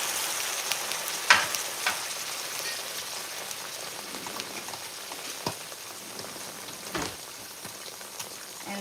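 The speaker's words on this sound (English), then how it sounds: "you're going to take some chicken broth" Chicken broth is poured into a hot pan of pork chops, setting off a steady, crackling sizzle with a few sharp pops and clinks along the way.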